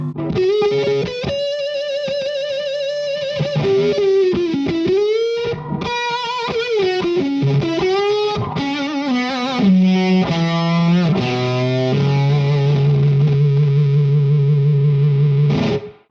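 An electric guitar played through a King Tone pedal with volume full gives a loud, distorted tone, with a run of sustained notes and bends, then a long held chord ringing out before cutting off.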